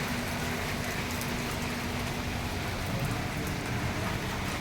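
A heavy downpour that started suddenly, a constant loud wash of rain splashing on the ground, steady and unbroken with no voices over it.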